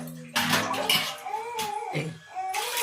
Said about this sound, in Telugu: వాటర్ వేస్తున్నాము